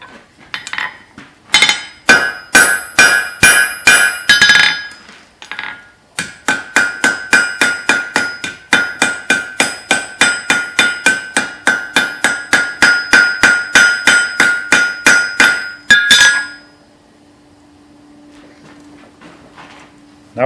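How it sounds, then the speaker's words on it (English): Hand hammer on hot forged steel while setting a rivet on a hook, dozens of sharp ringing metallic strikes in a steady rhythm with brief pauses, close and loud, ending in a faint hum. "just use the hand hammer just to round off our reins and put a little bend in the reins"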